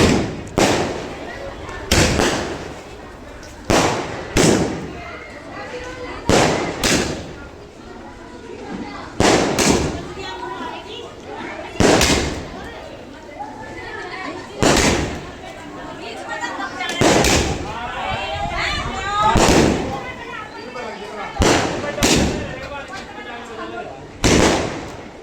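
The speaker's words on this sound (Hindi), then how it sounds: "इस तरह से बम के धमाके के साथ।" Loud firecracker bangs go off repeatedly at irregular intervals at an Indian wedding as the groom arrives, each a sharp crack, with crowd chatter and music carrying on beneath them.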